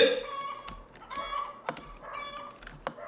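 A chicken in a Roblox game clucks repeatedly in short bursts, with sharp accented squawks punctuating a bright, electronic-sounding background.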